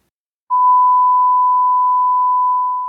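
A single steady electronic test tone played through Wwise's Soundcaster starts after a brief silence and holds evenly for over two seconds, loud and pure.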